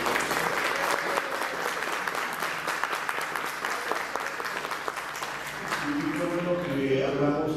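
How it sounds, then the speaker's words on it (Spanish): Sustained applause from a seated audience at an academic conference, dense steady clapping that continues throughout and begins to thin toward the end. "Un aplauso."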